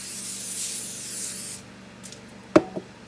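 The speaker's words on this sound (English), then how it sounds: "Oil down. We're going to spray it real well." Cooking oil sprays onto potatoes on a grill in one long close hiss, followed by a couple of short clicks and knocks near the end.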